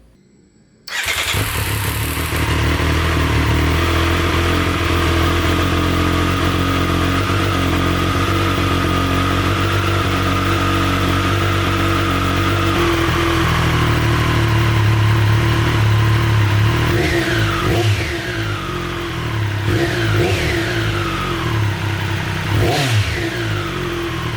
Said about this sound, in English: here's a quick clip of what the stock exhaust sounds like